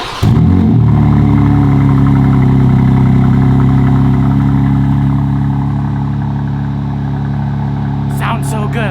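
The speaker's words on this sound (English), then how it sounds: "let's start the M4 now" A BMW M4 engine cranks and fires up, then settles into a steady, loud, rumbling idle for the rest of the moment, with a brief extra noise near the end.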